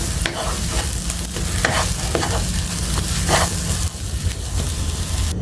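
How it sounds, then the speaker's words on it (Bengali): Ghee being stirred through food in a hot pan, with a steady sizzle of frying under repeated scraping strokes of the spoon, close and continuous. "1/2 চা চামচ ঘি দিয়ে আমি মিশাই নিব।"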